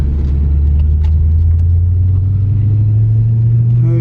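A high-mileage Volkswagen Touareg TDI diesel idles loud and close, a steady low rumble holding throughout with a slight rise near the end.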